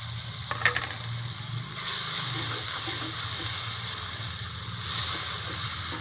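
Onions frying in a pan with ginger garlic paste, tomatoes and chillies added for a village-style mutter gosht, giving a steady close hiss and sizzle that swells after a couple of seconds, with a few soft clinks early on.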